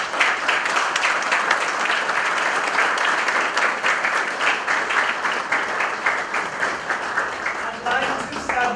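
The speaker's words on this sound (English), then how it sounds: "Give yourselves a round of applause." Sustained applause from an audience at a men's health summit at a community health center, steady dense clapping filling the room for several seconds with some voices mixed in.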